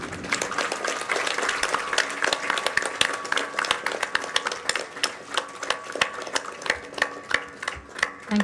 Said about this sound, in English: One big round of applause, everyone.